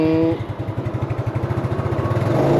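A Yamaha Mio scooter with a 200 cc-size piston and a blocked exhaust catalyst starts, then settles into a fast, loud, throbbing idle with steady rapid pulses close by.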